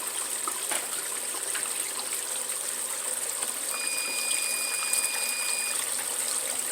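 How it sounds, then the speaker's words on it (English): Water poured off a gold-panning pan runs in a steady, close trickle and splash, with a constant wash of flowing water throughout. "Let me pour some of this water off here."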